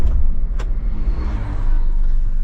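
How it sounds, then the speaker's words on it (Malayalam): A Mahindra Thar SUV's engine cranks with a brief sharp catch, then settles into a steady, loud low rumble at close range, with no talk over it. "സ്റ്റാർട്ട് ചെയ്യുന്ന ശബ്ദം ഒന്നും കേട്ടോണേ."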